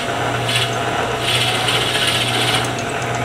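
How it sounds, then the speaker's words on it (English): Steady grinding, rasping wood-cutting noise as a drill bit bores into wood turning on a lathe while making a screwdriver, continuous with a low motor hum underneath. "I'm going to advance this drill bit"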